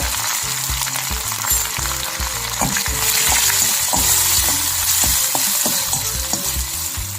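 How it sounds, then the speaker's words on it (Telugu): Curry leaves, a dried red chili and asafoetida fry in hot oil for a tempering, giving a loud, continuous close sizzle with occasional stirring scrapes and no talking. "ఇవి కొంచెం వేగాక స్టవ్ ఆఫ్ చేసుకుందాం"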